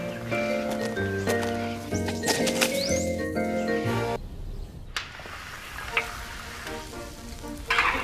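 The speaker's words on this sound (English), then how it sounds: "The chicken is cut into pieces and stirred, fried until fragrant, then washed rice is added and stir-fried together." Chicken pieces stir-fried in a pan during a Hani family banquet in Xishuangbanna, Yunnan, China; a steady sizzling hiss starts under music, then carries on alone once the music fades.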